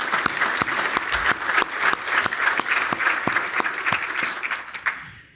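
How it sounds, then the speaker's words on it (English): Audience at a Pennsylvania business and industry environmental conference applauds a state senator, a steady wash of clapping with a few sharp individual claps that holds for about five seconds before tapering off at the end. "Let's give him a round of applause."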